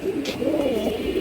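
Giribaz pigeons cooing close by, a steady rolling coo running through the whole moment with no talking.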